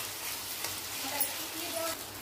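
Potato pieces stirred into masala gravy in a pan give a steady close sizzle with soft scraping stirs, and there is no talking.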